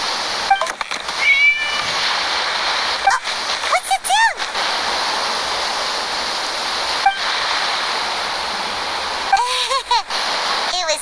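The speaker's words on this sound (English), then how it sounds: "just a cat." Several short cat meows come from a video game scene and stand out over a steady rushing water-like ambience.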